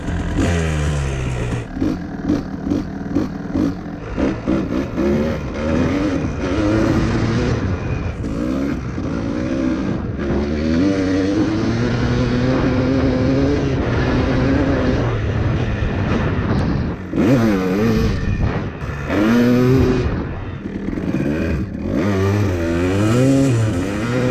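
A two-stroke engine idles after a carburetor adjustment that leaned it out, running rough and burbling with uneven pulsing and small rises in pitch, loud and close throughout.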